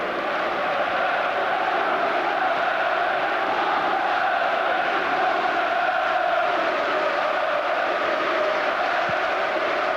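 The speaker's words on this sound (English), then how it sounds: "the crowd is certainly very responsive" Football crowd at the 1998 FA Cup Final between Arsenal and Newcastle, a dense, continuous roar of massed voices and chanting from a large stadium, steady throughout without clear peaks.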